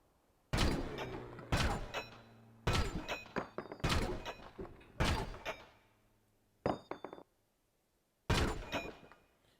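Slowed-down gunfire from a GTA V character's weapon in the Rockstar Editor: seven or so heavy, drawn-out booming shots spaced about a second apart, each with a long fading tail, loud and close.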